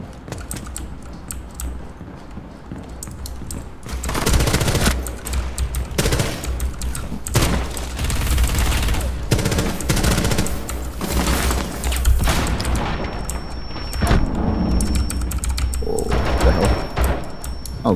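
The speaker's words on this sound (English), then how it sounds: "She shot your shield instead of your legs." Gunfire in the video game Rainbow Six Siege, rattling automatic bursts and repeated shots through a busy, loud mix of game sounds, heard up close without speech.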